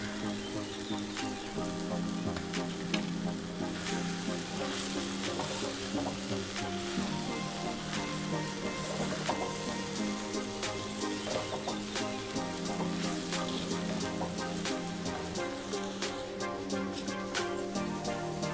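Vegetables and oats sizzling steadily as they are stir-fried in a pan, a continuous crackling fry with occasional stirring scrapes, moderately close and without talking.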